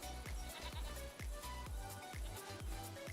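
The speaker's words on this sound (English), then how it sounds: "We got our goats, my goats." Goats bleating in Farming Simulator 25, a steady run of repeated bleats about every third of a second, fairly loud and close, over a constant background bed of farm noise with no talking.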